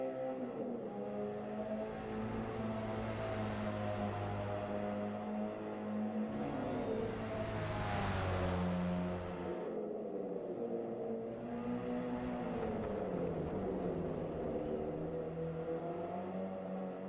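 A Nissan race car's inline-six engine drones steadily at a distance at Suzuka, its throaty pitch rising and falling as it revs through gears, with no talk.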